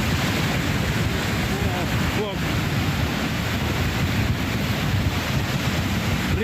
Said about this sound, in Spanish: los vecinos graban el inicio de una cabeza de agua en el sector de esta zona del Líbano de Tilarán